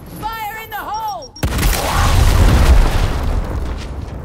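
Grenade blast in the Gears Tactics video game, a sudden heavy boom about a second and a half in that rolls into a long, loud rumbling tail, just after a short burst of in-game voices and electronic warbling.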